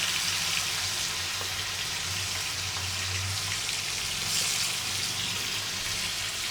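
Meat frying in a pan, a steady close hiss and crackle of sizzling fat that holds at an even level throughout.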